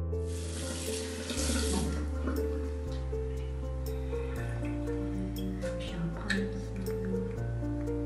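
Tap water runs steadily into a sink while the face is wetted, a continuous splashing flow with faint drips, heard close up beneath soft background music and a speaking voice.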